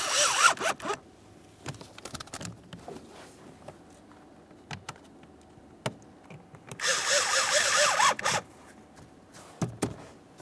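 Phillips head screws being driven in and tightened while fitting a brake light switch on a 2014-2019 Toyota Corolla, with two longer whirring bursts of a driver at the start and later, separated by scattered clicks and taps.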